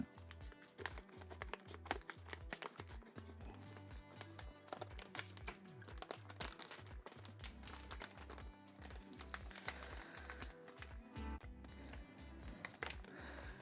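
Crinkling and rustling of a plastic bag around a car stereo being handled and pulled open, close and busy, with irregular tapping and scraping throughout.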